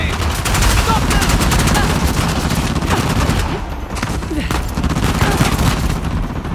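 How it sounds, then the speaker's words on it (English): Heavy continuous gunfire in Uncharted: The Lost Legacy during a battle, dense rapid shots with a short lull midway, loud and close. "Who the hell is shooting?"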